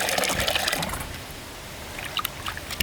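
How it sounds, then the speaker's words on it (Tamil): Prawns being washed by hand in a pot of water in a village kitchen, giving a close, continuous sloshing and trickling with small splashes and light clinks, no talk. "இறாவை நல்லா ஒரு 2-3 தண்ணி போட்டு நல்லா கழுவிக்கோங்க."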